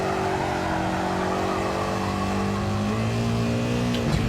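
A race car in Gran Turismo 7 accelerates with a steady, loud engine drone, its pitch climbing smoothly through the gears, heard alone without talk.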